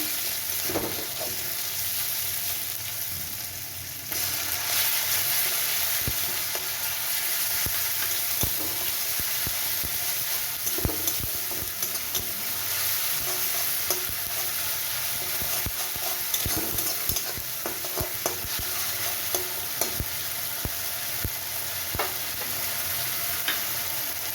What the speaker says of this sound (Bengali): এর মধ্যে আমি টমেটোটা দিয়ে দেবো।